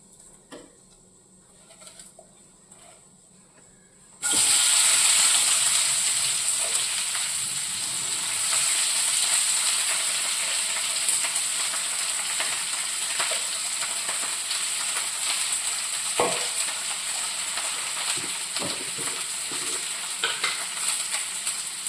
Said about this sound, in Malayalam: ഉപ്പും കൂടെ ചേർത്ത് നമുക്കതൊന്ന് വഴറ്റിയെടുക്കാം